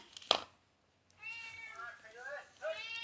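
A cat meows close by in a series of drawn-out, wavering cries. A sharp click comes first, followed by a brief silence.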